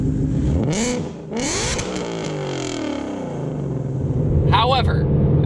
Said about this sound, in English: Now let's get down to the side pipe exhaust that's so rowdy.